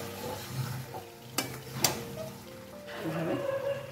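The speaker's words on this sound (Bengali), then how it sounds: "খুলে এখন আবার একটু নেড়ে দেব, উপর নিচ করে সুন্দর করে নেড়ে দেব।" Chicken and potato curry being stirred in a pan with a spoon, a steady low sizzle of frying under scraping and stirring, with a couple of sharp utensil knocks against the pan near the middle.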